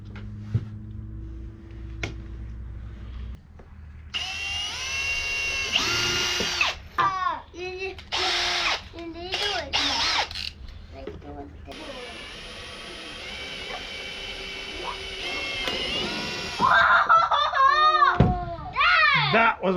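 Power drill boring holes through the roof of a Mitsubishi MR Triton for a Rhino Rack Vortex bar install, whining in several loud bursts with pauses and handling noise between them.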